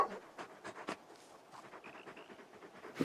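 Torgal, the large dog from the video game Final Fantasy XVI, panting softly in quick, uneven breaths, faint and close, with small clicks and a brief whine in the quiet.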